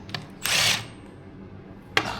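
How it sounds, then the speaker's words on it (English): A power tool spins the cog nut off an oil pump in a car workshop, one short loud whirring burst followed by a quieter pause and a brief second buzz at the end, close and without speech. "So we'll start by taking the cog nut off"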